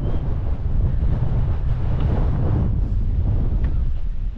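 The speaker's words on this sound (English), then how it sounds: "Windy up here. You probably know that because you can probably hear it." Strong wind buffeting the microphone outdoors in Plymouth, England, a loud continuous low rumble and roar that persists without a break, with no voices.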